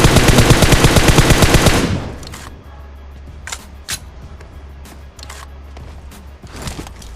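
Rapid M4 rifle spray fire in the mobile game PUBG Mobile, a loud dense burst of shots for about two seconds, followed by quieter scattered distant single shots over a low engine-like hum.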